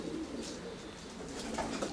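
Racing pigeons circling and landing at the loft on arrival, with soft cooing and bird calls over steady ambient noise, a few brighter calls near the end.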